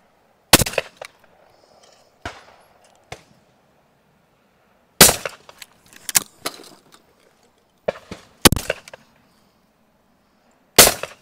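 Shotgun shots at a sporting clays ground ring out as sharp, loud bangs, about eight in irregular pairs and singles, with quiet outdoor gaps between them.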